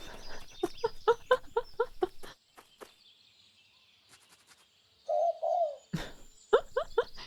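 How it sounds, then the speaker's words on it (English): Collared dove cooing nearby, two short soft hooting notes in a clear pause between bursts of other rhythmic bird calls and chatter. "A collared dove."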